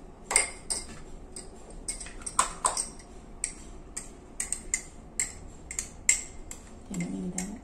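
A spoon clinks repeatedly against a glass or cup in irregular bright taps, like stirring a drink, with low background noise.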